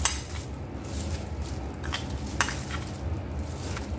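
Green chillies are stirred and mixed with a coarse paste of mustard seeds, salt and garlic for pickle, a soft continuous scraping and rustling with a few light clinks of utensil against the bowl, close and steady.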